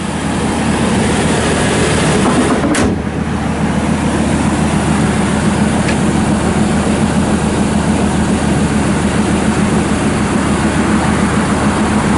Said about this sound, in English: Just a very, very nice truck. Fires right up.